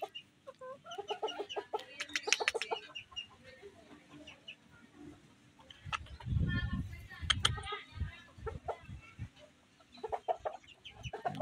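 A pair of Serama bantam chickens cluck and chatter in short bursts nearby, with a few louder low calls midway, while people talk quietly in the background.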